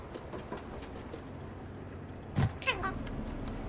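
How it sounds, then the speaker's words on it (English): A cat from the video game Stray gives a short meow or two near the middle, fairly faint beneath steady background game ambience. "the cat. It's adorable."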